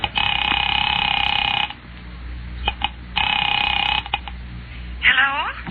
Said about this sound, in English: Picking it up quietly, I dialed my daughter's number